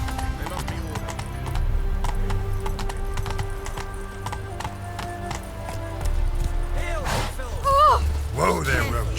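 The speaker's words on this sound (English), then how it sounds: "Whoa there, Roach." Horse hooves clip-clop steadily in The Witcher 3, a fantasy open-world game, the rhythmic footfalls running throughout, with a voice speaking over them and a brief horse whinny near the end.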